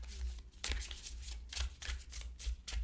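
Tarot de Marseille cards riffle and slap together in quick repeated bursts, a close, crisp shuffling with short pauses between passes.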